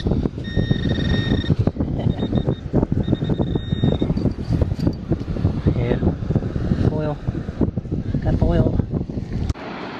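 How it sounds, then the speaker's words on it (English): Strong wind on a South Carolina beach buffets the microphone in loud, continuous rumbling gusts, with surf noise beneath and a voice talking intermittently through it. "the wind's pretty bad"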